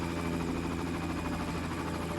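A helicopter in the video game Far Cry, heard as a continuous low engine drone with a steady rotor thrum, fairly close and constant, with no voices.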